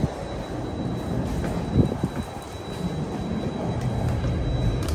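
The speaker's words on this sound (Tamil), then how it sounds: "பார்த்தீங்கன்னா 5 நிமிஷத்தில் ட்ரெயின் வருது." A PATH train rumbles into an underground station at Journal Square in Jersey City, a steady low roar with faint clanks and a thin high whine.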